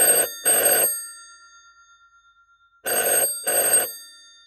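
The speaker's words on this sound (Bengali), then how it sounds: "তার আগেই টেলিফোনের ঝনঝন।" An old-style telephone bell rings in two double bursts separated by a silent pause, loud and close with a metallic jangle.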